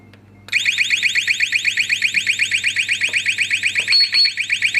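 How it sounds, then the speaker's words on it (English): An SG4000 wirefree alarm siren unit sounds, a loud, piercing two-tone warbling siren that starts abruptly and pulses steadily and rapidly, close and alone. "I can stop the siren there."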